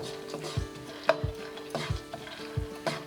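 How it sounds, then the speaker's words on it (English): Soft, steady sizzling of pine nuts toasting in a pan, with faint scraping and light stirring knocks throughout, fairly quiet and close. "Some of the pine nuts are starting to turn a little brown, and I could hear it sizzling."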